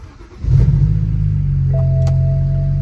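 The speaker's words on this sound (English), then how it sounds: "I'm gonna go ahead and start the car" A BMW E9X engine cranks and catches, then settles into a loud, steady low idle rumble close by, with a thin electronic tone appearing partway through.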